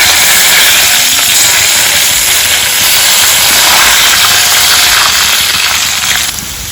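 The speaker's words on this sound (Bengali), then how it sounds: "এবারে আমি আলুগুলোকে সাইডে সরিয়ে মাঝখানে শুকনো লঙ্কা ছিঁড়ে দেবো, তেজপাতা দেবো" Dry red chillies and bay leaves sizzle loudly in hot oil beside pan-fried potatoes for aloo dum, a steady, close hiss that runs alone for the whole stretch and thins slightly near the end.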